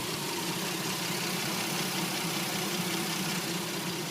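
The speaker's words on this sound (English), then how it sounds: "and I refilled the cooling system, and the engine is running" A Chevrolet Venture minivan engine runs at a steady idle after a heater core repair and coolant refill, a low, even hum with faint mechanical ticking and no voices.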